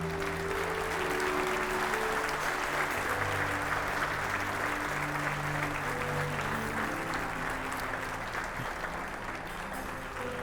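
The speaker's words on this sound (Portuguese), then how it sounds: "Você pode dar ao Senhor mais um forte aplauso" A church congregation gives a long, steady burst of applause, dense and continuous for ten seconds, with sustained musical tones underneath.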